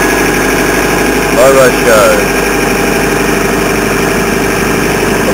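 A Vermeer SC60 TX stump grinder engine running at a steady, loud idle with a constant low rumble, a brief rise in tone partway through, and a voice speaking briefly over it.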